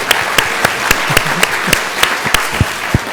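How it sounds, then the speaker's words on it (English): A group claps in a slow, steady rhythm, about a dozen sharp, loud, evenly spaced unison claps over a few seconds during a gathering with Ajahn Brahm, with a faint voice briefly underneath. "we do the clapping."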